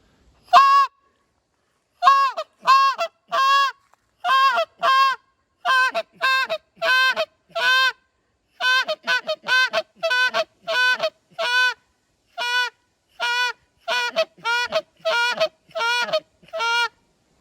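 A short-reed Canada goose call blown by a person imitates goose honks in a loud, close, rhythmic sequence of roughly thirty clipped honks in quick bursts with brief pauses, alone with no talk.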